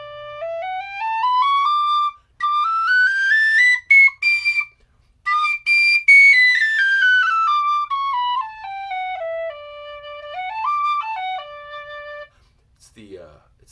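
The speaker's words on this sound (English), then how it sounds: "It's the best soprano D whistle I've ever played." A brass soprano D tin whistle plays a clear, soft, earthy-toned melody alone, with rising and falling phrases, brief breaks between notes, and a short rustle at the end.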